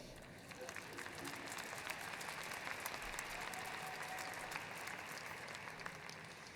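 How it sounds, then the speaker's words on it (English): Audience applause at a university fall commencement ceremony, a steady sustained wash of clapping from a large crowd that continues throughout. "Yeah, you can applaud that."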